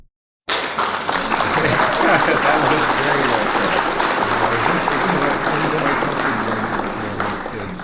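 Loud, sustained applause from a large crowd, steady and dense throughout, starting abruptly after a moment of silence.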